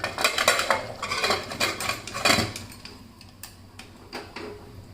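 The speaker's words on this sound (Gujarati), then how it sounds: "હવે આપણે કુકરનું ઢાંકણ બંધ કરી દઈશું" Metallic clatter and clanks of a pressure cooker lid being handled and shut in a home kitchen while cooking drumstick vegetable curry, a few sharp close knocks followed by quieter taps.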